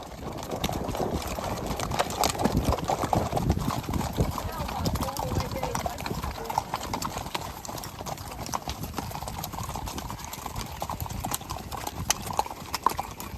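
Horses walking on a farm during a horse safari ride give steady, continuous clip-clop hoofbeats close by, with voices talking over them.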